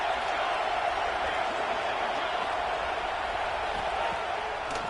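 Steady roar of a college football stadium crowd at Oklahoma versus UTSA, a broad continuous wash of massed voices and noise at even level, with no distinct cheers or announcer speech emerging.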